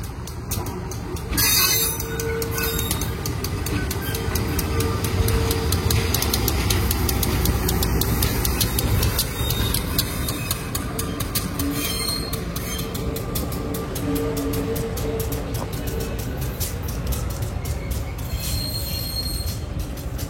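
A train built for farmers rolls into Surabaya Gubeng station, its wheels squealing and grinding on the rails in a loud, steady roar that fills the whole stretch.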